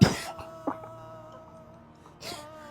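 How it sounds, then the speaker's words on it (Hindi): An elderly person at home coughs sharply once at the start, then gives a fainter cough partway through and a final harsh cough near the end, with quiet pauses between. "खांसी नहीं आएगी, पानी पीजिए"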